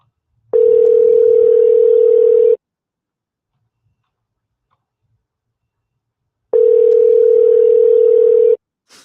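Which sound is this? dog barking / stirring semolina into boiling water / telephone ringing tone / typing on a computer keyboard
telephone ringing tone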